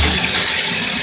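Running water pours steadily over a filter being rinsed, a loud, even hiss and splash for about a second with no pauses or voices.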